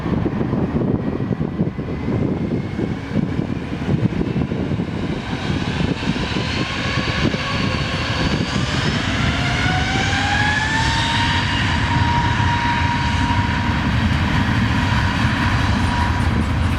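A TAP Air Portugal Airbus A321-251 jet takes off from runway 03 at Lisbon Airport, its engines a loud, sustained roar with rising whine tones that swell and shift as the aircraft accelerates, with no talk over it.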